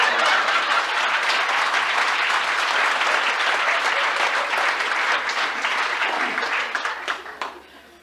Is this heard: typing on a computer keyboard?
no